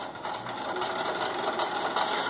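A sewing machine runs steadily while stitching fabric, a close, even, rapid whir with a slight rhythmic pulse and no talking.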